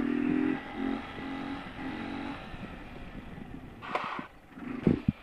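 A motorcycle doing a wheelie revs in short, uneven bursts, with a louder rasp and clatter near the end, at moderate distance with no talk.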